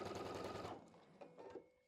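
A sewing machine stitches quilt block pieces together in a brief quiet burst of rapid, steady needle chatter that stops after under a second, followed by faint handling clicks and rustles.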